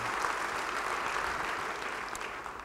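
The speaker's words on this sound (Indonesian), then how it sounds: "Yang mau beri tepuk tangan bagi dia" A congregation applauds during a Sunday revival service at an Indonesian church, a steady wash of many hands clapping together, even and continuous, rather faint and distant throughout.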